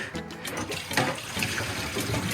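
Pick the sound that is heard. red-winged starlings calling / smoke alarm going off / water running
water running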